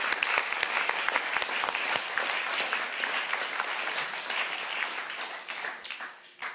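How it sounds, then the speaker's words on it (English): A studio audience applauds at the close of a lively panel discussion on the arts, with dense, sustained clapping throughout that holds steady before tapering slightly near the end. "Give yourselves a round of applause."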